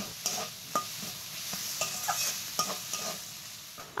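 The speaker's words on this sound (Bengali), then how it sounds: "এবার ভালো করে একটু নেড়ে চেড়ে মিশিয়ে নেব মশলাগুলো" Spices for a banana-flower (mocha) chop mixture, including Kashmiri chilli powder, are stirred in a pan with a steady soft sizzle, broken by several sharp scrapes of the spoon against the pan.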